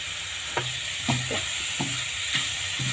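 A spoon stirs homemade beetroot pickle with fenugreek powder and Kashmiri chili in a hot pan, several soft scraping strokes over a constant close sizzle.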